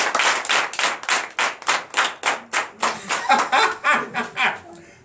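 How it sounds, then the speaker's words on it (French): Church congregation claps in a steady rhythmic beat during a night deliverance and prophecy service, the claps loud and close, with a few voices and light laughter mixed in. "Donne l'acclamation à Jésus."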